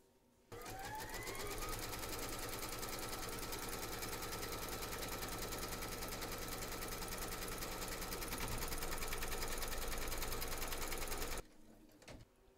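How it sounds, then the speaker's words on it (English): An embroidery machine stitches a securing outline through batting taped over fabric in the hoop for an in-the-hoop teddy and unicorn bag, a steady, rapid mechanical chatter running unbroken for about eleven seconds before stopping abruptly. "Pop your hoop into your machine and stitch round number 2 to secure it"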